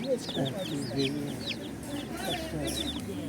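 Chickens cluck and chirp in short, repeated calls close by at a produce market, with a busy murmur of people talking in the background.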